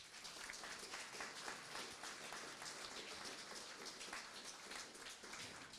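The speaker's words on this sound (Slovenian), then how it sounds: "Potrdimo to z enim aplavzom." An audience applauds at a ceremonial assembly. The clapping is steady and dense, sounds distant and faint, and carries on without a break.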